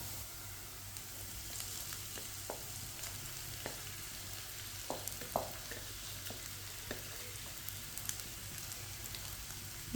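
Potato masala fries with lightly browned onions in a pan over reduced heat, a faint, steady sizzle broken by occasional soft clicks and pops of stirring.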